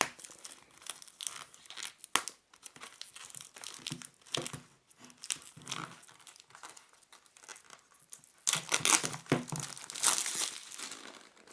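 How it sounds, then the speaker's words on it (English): Thin plastic shrink wrap is peeled and crinkled off a men's Comtex automatic watch box, close-up irregular crackling and tearing bursts with brief pauses, louder toward the end, no talking. "So that's the shrink wrap peeled off."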